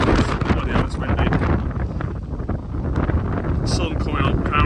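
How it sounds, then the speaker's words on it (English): Strong wind buffets the microphone without letup on an early morning hike in Zion National Park, Utah, a loud broadband roar with gusty swells and brief rustling near the end. "Bloody hell, it's windy."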